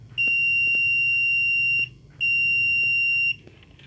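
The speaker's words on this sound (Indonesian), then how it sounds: "ini untuk continuous atau buzzer" An analog multimeter set to continuity mode sounds its buzzer in two steady high-pitched beeps, the first about 1.7 seconds long and the second slightly shorter, close and clear over a low room hum.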